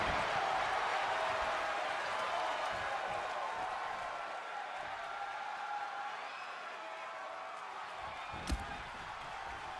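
Distant arena crowd noise from a WWE 2K26 wrestling video game broadcast, a broad continuous roar and cheering that softens midway, with a single sharp thud near the end.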